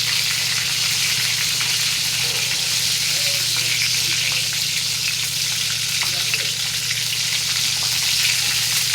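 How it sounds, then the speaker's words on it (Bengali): Steady close sizzling of pointed gourds browning in hot oil in a pan, a constant crackling hiss over a low hum, with light scraping of a stirring utensil now and then. "পটলগুলো একটু লাল লাল করে আমি ভেজে নেব।"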